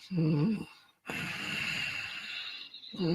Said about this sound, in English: it's when you start sounding like Darth Vader,